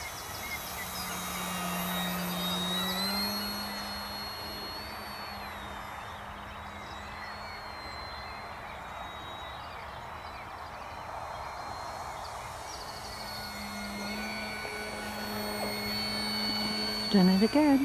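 FMS 1.4m Kingfisher V2 RC model plane flying over a field, its electric motor whining steadily at a distance with a drone that rises and falls as it passes, under wind noise throughout.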